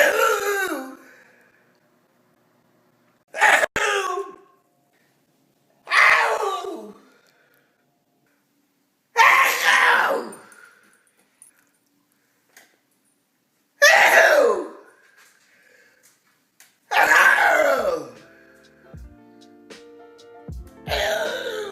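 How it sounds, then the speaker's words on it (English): A girl lets out a series of weird, dramatic sneezes, each a sharp, loud burst with a vocal squeal, separated by silent pauses, about seven in all. "This honestly has to be one of the most dramatic sneezes ever."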